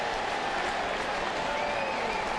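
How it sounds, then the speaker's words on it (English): Crowd at a Red Sox at Mets baseball game in the stands cheering and applauding after a home run, a dense, steady roar of clapping and voices that stays loud throughout. "the crowd starts to get into it"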